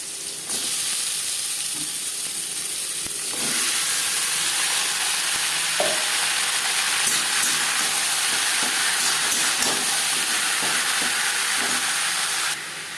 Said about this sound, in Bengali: 15-20 সেকেন্ড জিরে তেজপাতা ভেজে নেওয়ার পর দিয়ে দেবো লাউ